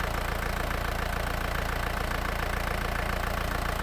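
A cold vehicle engine running at a steady, rough idle, a continuous dense rumble with no pauses, close by and alone.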